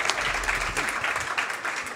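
A crowd at an audio awards ceremony in Paris claps steadily as a studio founder is called up to receive a trophy, producing a dense, continuous round of applause.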